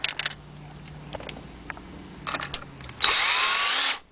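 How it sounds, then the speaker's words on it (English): A power driver whines steadily for about a second as it backs Torx screws out of the dash of a 2004 Corvette, following a few faint clicks and taps of handling parts nearby. "Take these two Torx bits out"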